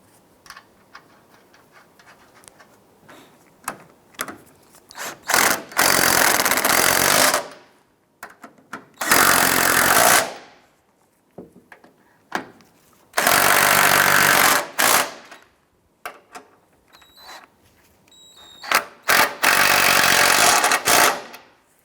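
A power tool snugs down the strut mounting nuts on a 2001-2007 Ford Escape in loud, close bursts of rattling impact, each lasting one to two seconds, separated by quieter clicks and handling noises.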